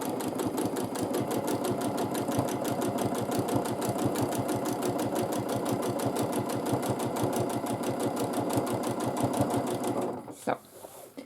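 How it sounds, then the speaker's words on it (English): Sewing machine stitching a quilt seam line in free motion quilting, a steady rapid needle rhythm running loud and close for about ten seconds before stopping, followed by a few soft handling clicks. "And I will quilt this seam line."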